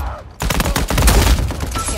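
Rapid gunfire in Uncharted 4 multiplayer, a loud dense burst of close shots that starts abruptly and keeps going for over a second.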